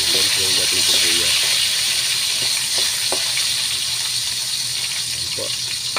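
Chopped onion and garlic frying in a pan for chicken adobo, a steady loud sizzle and hiss with occasional stirring, while a person talks over it.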